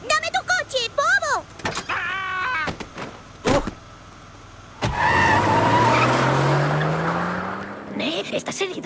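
A stolen car skids in a car-theft video game within a Simpsons cartoon, a loud engine rush and drawn-out tire squeal dominating the second half after earlier animated voice sounds and clatter.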